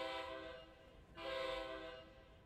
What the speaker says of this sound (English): That's such a good sounding horn.